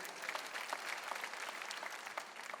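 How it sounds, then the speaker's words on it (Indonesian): A church congregation applauding for Jesus during a Sunday service, steady dense clapping from many hands, close and even throughout with a faint crowd murmur beneath. "tepuk tangan buat Tuhan Yesus"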